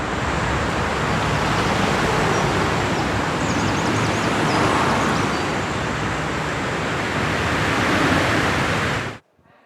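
Steady, dense road traffic made up only of electric vehicles, heard as a continuous broad wash of tyre and road noise with no engine rumble, holding level before cutting off abruptly.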